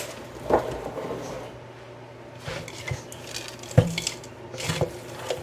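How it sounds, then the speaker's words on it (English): Partly frozen ingredients are stirred in a big pot with a spoon, making scattered soft scrapes, squishes and occasional knocks against the pot, spaced irregularly over a faint background sizzle. "I'm just going to stir it all in because I got to use it up anyway"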